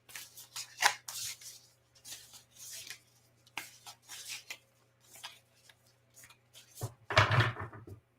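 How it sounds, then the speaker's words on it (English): A deck of tarot cards shuffled by hand in a quiet room, giving intermittent crisp riffles and soft slides in short bursts, with a louder flurry near the end and a faint steady hum behind. "maybe I didn't shuffle the deck very good"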